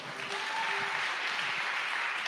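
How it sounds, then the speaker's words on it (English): A fairly faint, steady wash of audience applause as a speaker comes on stage at a tech event, continuous throughout. "Let's bring a round of applause."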